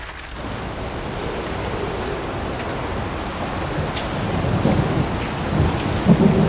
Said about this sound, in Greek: Η νύχτα κυλά και η βροχή συνεχίζει.